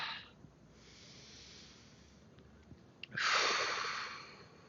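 Big breathy exhales during a yoga stretch, heard as soft, close airy hisses: a brief one at the start, a quieter long breath, and then a louder, fuller exhale near the end.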